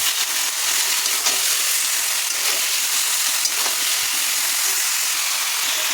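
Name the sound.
meat added to frying onions for biryani, sizzling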